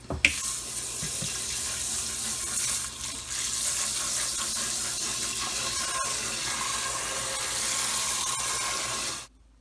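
A tap runs steadily into a sink while rice is rinsed by hand, a bright continuous splash of water that stops abruptly at the end.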